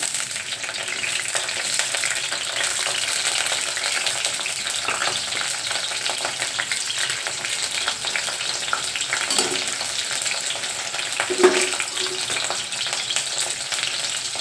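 Green chilies fry in hot oil for methi bhaji, a steady close crackling sizzle that runs unbroken, with a couple of soft stirring scrapes.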